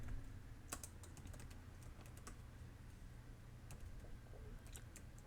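Fingers typing an email on a computer keyboard, quiet close clicks in irregular bursts with small pauses between words, soft and without talk.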